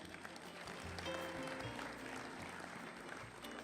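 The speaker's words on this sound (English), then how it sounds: "another hand of applause for Onika as she gets on stage" An audience applauds as a woman named Onika takes the stage at a conference event; steady, moderate clapping fills the whole stretch without speech.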